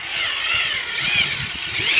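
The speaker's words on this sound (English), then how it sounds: "So now I take my larger drill bit, the 31/64, drill slowly" A 31/64 drill bit boring slowly into a gas can for a vent install, heard as a steady close-up high-pitched whine of the drill with slight rises in strain, alone without talk.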